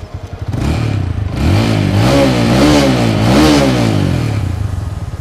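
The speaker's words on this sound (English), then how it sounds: "enjoy the throaty rumble from the exhaust" A TVS Apache RTR 200 4V motorcycle engine revs up and down with a deep, throaty exhaust rumble, loud and close, rising in pitch through several throttle blips.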